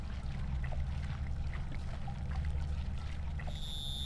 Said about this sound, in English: Probably should have watered it before I left.